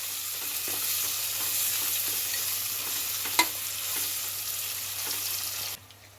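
Three chopped tomatoes stirred into a sizzling pan for chicken pulao, a steady close fry hiss with soft spoon scrapes and one sharp clink, ending abruptly near the close.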